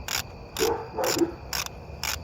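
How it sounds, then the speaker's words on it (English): A hand ratchet clicks in short bursts while bolts are tightened on a cheap tractor under refurbishment, five quick rhythmic spells of clicking, close and clear, with no talk. "I love the clicks of that ratchet."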